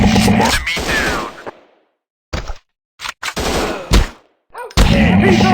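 Loud, close bursts of automatic gunfire in a first-person shooter video game, broken by abrupt silences, with a few single cracks between them and a final sustained volley.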